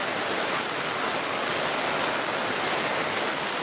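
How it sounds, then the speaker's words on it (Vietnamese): Heavy rain beats down outside a roadside stall in the southern Vietnamese countryside, a constant, close hiss and patter of drops on surfaces, with no talking. "Đây ngoài trời mưa rất lớn,"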